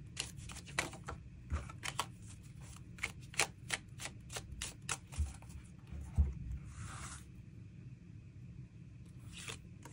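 Tarot cards being shuffled for a love reading, giving soft irregular riffling and slapping taps spread across the whole stretch, fairly quiet and close with no talking.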